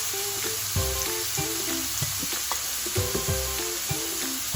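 Taco filling sautés in a pan with a steady loud sizzle, punctuated by scraping stirs and clanks of a utensil against the pan.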